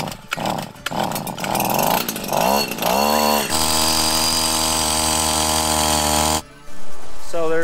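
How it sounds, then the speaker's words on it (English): A drill and hammer break up serpentine rock in the Sierra Nevada mountains. Loud, close bursts of rising machine noise lead into a sustained, steady roar that cuts off abruptly, followed by a brief restart. "There's only so many people that can run a drill and a hammer"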